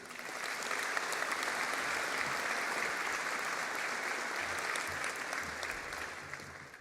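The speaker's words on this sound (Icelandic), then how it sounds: "Þá má klappa fyrir kvikmyndatækninni" Steady, full applause rises from a large audience at a technical school graduation ceremony in a concert hall, a dense even wash of many hands that holds for several seconds.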